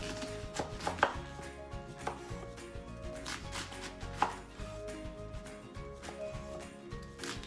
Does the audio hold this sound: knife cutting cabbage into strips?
yes